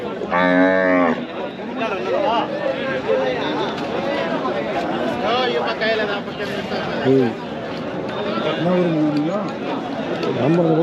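Large cart bulls at a Tamil Nadu cattle market moo loudly, one long call opening the scene and others following, amid constant crowd chatter and someone talking close by.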